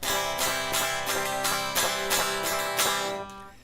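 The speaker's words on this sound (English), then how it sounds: "And so that's the sound of a raw guitar." Dry guitar strummed repeatedly in a steady rhythm, bright and full, with no effects, ending on a ringing chord that fades.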